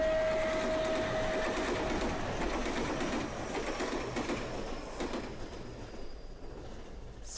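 A train pulls into a station in the Japanese game Wasurenaide, Otona ni Natte mo (complete edition), a steady rolling rumble with rail clatter and a brief high tone early, loud and continuous before easing off toward the end.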